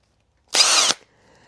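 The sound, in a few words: power drill drilling the wiper knob shaft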